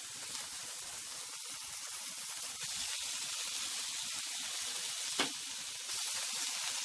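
Onions and lardons sizzle in a frying pan for fresh carbonara-style pasta, a steady soft hiss with a brief louder spit partway through, no voices.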